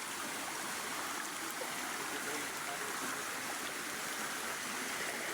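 A small creek flows at its curve, a steady close broadband rush of water with no break.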